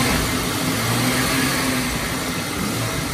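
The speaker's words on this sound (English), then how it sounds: "remember to rev up your engine a little bit" A car engine revs during a cooling system flush, a loud continuous steady roar sustained at high revs throughout with no pauses or talk.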